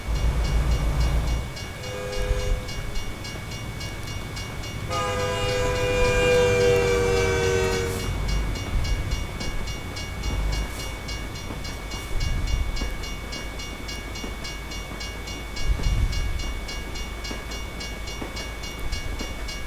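A train passes a level crossing with a loud sustained horn blast partway through, set against a steady rumbling rail noise that continues throughout.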